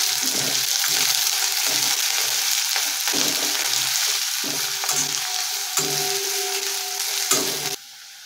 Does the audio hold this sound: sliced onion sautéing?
yes